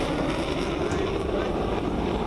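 Fighter jets including Rafale, Jaguar and Sukhoi aircraft give a loud, steady, broadband roar overhead, a continuous rumbling wash without breaks, with a voice faintly under it.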